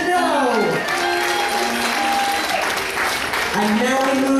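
Dense, sustained applause from a cruise ship audience on the Carnival Panorama fills the room, steady and loud throughout, with a faint voice and music tones underneath.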